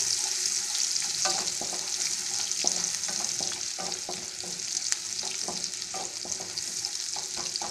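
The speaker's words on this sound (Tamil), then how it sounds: "இதுக்கு ஒரு பூண்டு பூண்டு போட்டு இதை நல்லா வதக்கலாம்" Green chillies and garlic sauté in sesame oil for Andhra-style tomato pappu, a constant bright sizzle with frequent scraping stirs and light spoon taps throughout.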